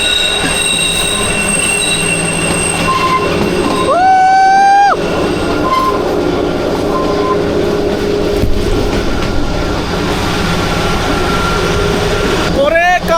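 Kalka–Shimla toy train, the Himalayan Queen, running on its narrow mountain line with steady rolling rumble, a loud sustained wheel squeal in the middle and another brief squeal at the end, with faint voices in the background.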